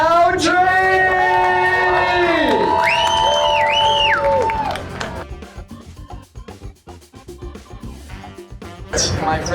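A crowd at a live Top Chef cooking competition in Lake Havasu cheers loudly with whoops and applause, then the noise fades as people start talking.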